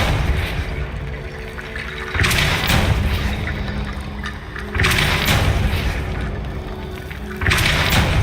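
Repeated Depulso force-push spell blasts in Hogwarts Legacy, three heavy booming whooshes arriving roughly every two and a half seconds over a steady low game ambience with a faint hum.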